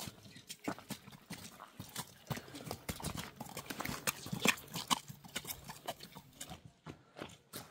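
A young yellow-dun Kyrgyz colt being walked on hard ground, a steady close clip-clop of hooves in an uneven walking rhythm, with faint voices in the background.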